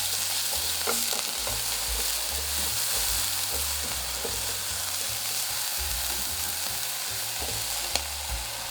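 Chopped pork belly and garlic stir-frying in a pan for fried rice, a steady close sizzle with occasional scrapes and stirring knocks of a ladle, no voices.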